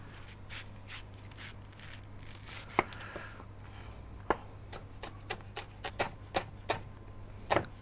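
A knife chopping leeks on a cutting board, a run of crisp taps that starts sparse and then quickens into a steady chopping rhythm, close and fairly quiet over a low steady hum.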